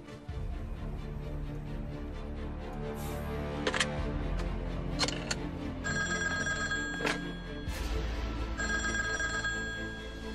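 An old-style telephone bell rings in repeated bursts with short pauses between them, loud and close, in a wartime drama as a call is placed.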